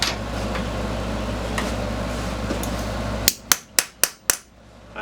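A silver ring is hammered on a small anvil: five sharp, ringing metallic strikes in quick, even succession, close and loud, after a stretch of steady background hum.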